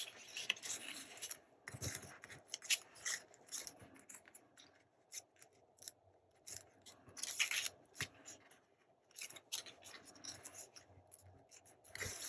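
Scissors snip through paper in rough fussy cutting, a quiet close series of irregular crisp cuts and rustles with short pauses between bursts, no voices.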